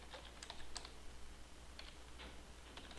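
Faint typing on a computer keyboard with a quick, irregular run of light key clicks in a quiet room and no voices.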